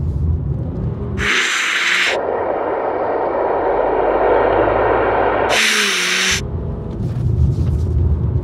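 A BMW M2 drifting on a track accelerates under hard throttle, its engine roaring in a loud sustained rumble with broadband hiss, broken by two brief bursts of sharper high-pitched noise.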